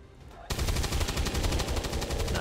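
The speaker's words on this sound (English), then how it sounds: "now my heavy can shoot him for some reason" A heavy soldier fires on an enemy in XCOM 2: after a brief quiet moment, a loud, sustained burst of rapid automatic gunfire continues to the end without pause.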